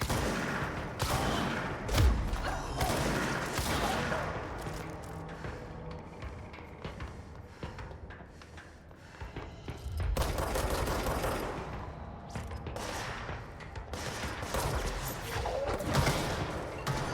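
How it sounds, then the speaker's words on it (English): Bursts of video-game gunfire and explosions from Control erupt in waves, rapid automatic fire with heavy thumps, swelling and easing repeatedly at moderate loudness. "explosions."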